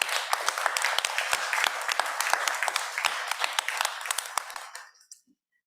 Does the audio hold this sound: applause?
yes